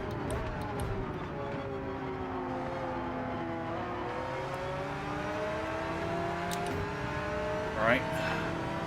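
Race car engines in the video game Gran Turismo 7 during a daily online race, a sustained whining engine note climbing through gears with other cars droning nearby, a brief tire squeal near the end.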